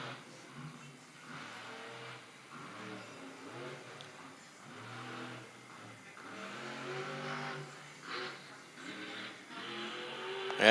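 Monster truck engine revving hard during a Monster Jam 2023 freestyle run as the driver attempts a wheelie, the roar rising and falling in surges, mid-distance with arena noise.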